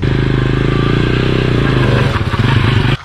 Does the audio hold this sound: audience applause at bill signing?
no